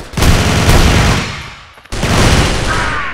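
PPSh-41 submachine gun in the CrossFire video game fires a loud, rapid burst that tails off, a brief pause, then another fast stream of close gunfire.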